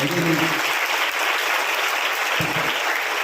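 A school audience at a government girls' senior secondary school in Lakhewali applauds the girls who sang, a loud, dense, unbroken wash of clapping with a low voice briefly underneath.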